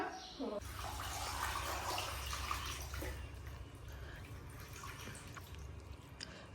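Spinach leaves being rinsed in a final change of water slosh and trickle steadily at close range, with people talking over the watery splashing.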